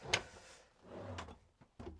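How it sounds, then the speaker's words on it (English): A soft-close cutlery drawer in a brand-new motorhome kitchen slides and shuts with a few faint, close rolling and knocking sounds, the last soft thud near the end. "big drawer with the cutlery tray just there, and you can see the soft close"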